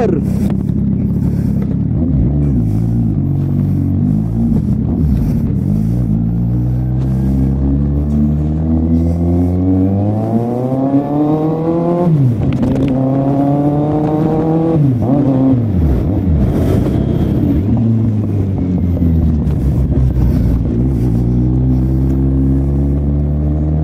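A Kawasaki Z800 motorcycle engine while riding, a steady loud drone that climbs in pitch through the gears, dips and rises again with each shift, continuous throughout with some wind noise.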